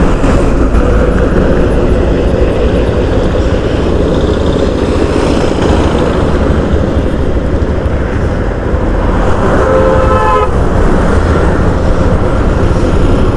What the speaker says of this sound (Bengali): ফার্স্টে বাইকটা স্লো করে নিই, একবারে জিরো করে নিউট্রাল করে